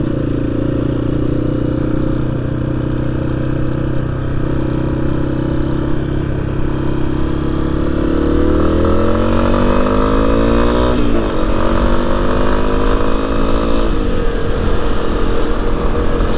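Motorcycle engine running steadily at close range, held at a constant throttle with a throttle assist fitted, then shifting smoothly in pitch as the revs change partway through, with no talk.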